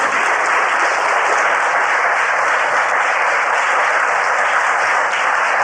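A courtroom audience on a televised judge show applauds in a dense, steady burst of many hands clapping at once, loud and close, holding evenly for around six seconds with no voices over it.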